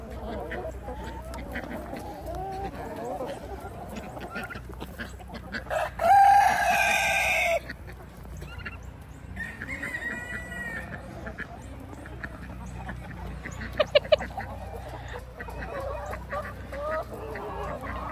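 A flock of backyard chickens clucks and crows throughout, with one loud nearby crow standing out partway through and softer fowl calls around it.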